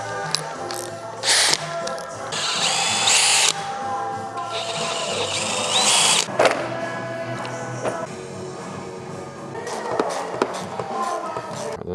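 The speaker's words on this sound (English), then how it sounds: "I'm not gonna rivet it, I'm gonna riv nut it" A handheld power tool whirs in short, high-pitched bursts while setting riv nuts on a Land Rover Defender, close up with metallic clicks and handling noise between runs and a voice speaking in places.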